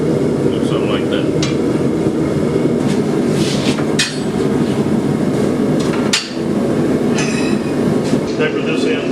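A blacksmith hammers hot steel on an anvil while shaping a swinging plant hanger, with loud repeated strikes over a constant roar of workshop noise and a few sharper ringing blows.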